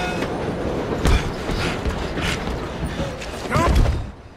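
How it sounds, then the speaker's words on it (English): A moving train in the Red Dead Redemption 2 game rumbles close and loud, with steady rolling noise and a few heavy metallic clanks and knocks over the wheels, and no voices. "Come on, we need to stop this train."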